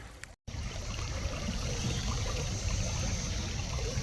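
Creek water flowing steadily along a forest hiking trail in Missouri, a continuous close trickle and babble after a brief dropout near the start, with no talking.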